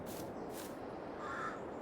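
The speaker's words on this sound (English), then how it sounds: "They're not flies, they're birds. Majestic crows." Crows caw in Farming Simulator 22, harsh calls in two or three quick bursts over a steady low ambient bed, at moderate distance and fairly faint.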